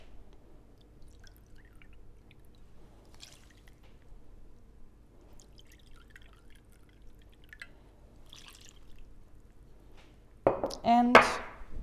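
Water is poured into a bowl of seeds for a sourdough discard cracker dough, a short splashing burst near the end after a long stretch of quiet kitchen room tone with faint clinks.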